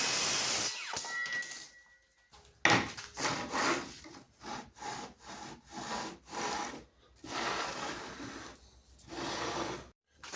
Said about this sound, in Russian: Отрежем с вами, наверное, 20 миллиметров от заводского края.